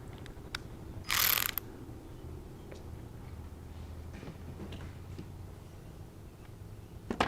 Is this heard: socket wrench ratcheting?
yes